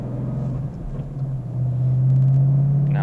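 Steady low exhaust rumble from a 2014 Mustang GT California Special V8 fitted with a Corsa Sport axle-back exhaust, cruising at light throttle from inside the car, swelling slightly louder toward the end.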